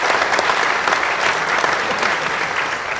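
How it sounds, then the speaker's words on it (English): A graduation audience applauds, steady dense clapping from many hands filling the room at an even level for the whole stretch, with no talk over it. "let's give him a round of applause anyways"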